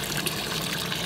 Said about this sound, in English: So the water right now that I'm putting in the pool